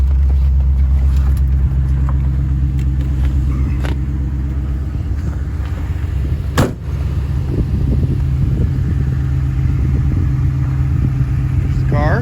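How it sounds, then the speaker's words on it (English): On a car at cold start, an electric brake vacuum pump drones continuously alongside the idling engine, a steady low hum and rumble that fills the whole stretch, with a brief thump midway and a voice speaking over it. "Pump that you hear is the electric vacuum pump for the brakes."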